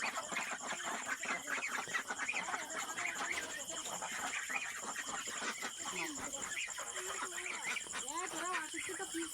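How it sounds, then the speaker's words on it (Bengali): A flock of about a hundred and twelve ducks and chickens, clucking and calling at a moderate distance, mixed with people talking over them throughout. "এখানে একশো বারোটা হাঁস মুরগি আছে"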